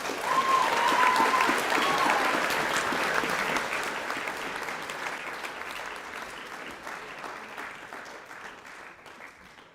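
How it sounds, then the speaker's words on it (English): An audience at a high school co-curricular prize giving applauds award winners, with dense clapping loudest at the start that gradually tapers and fades over about ten seconds. "Round of applause, thanks."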